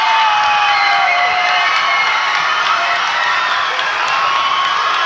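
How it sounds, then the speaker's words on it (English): A basketball crowd roars and cheers at the final buzzer of a high school game in a gym, a dense, loud, sustained wall of shouting and whooping with no break. "Listen to the crowd."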